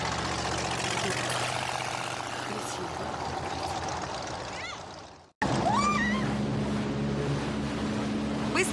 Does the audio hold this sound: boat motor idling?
yes